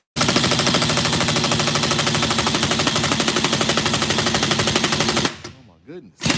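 An impact wrench hammers on a stuck car wheel lug nut in a rapid, loud, continuous rattle for about five seconds, then stops abruptly, followed by a brief final burst.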